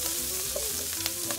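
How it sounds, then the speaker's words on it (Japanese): Cut sausages frying in melted butter in a pan, a close, steady, dense sizzle with faint crackles and no voices. "バター溶けたら先ほどの切ったウインナーを入れます。 炒めます。"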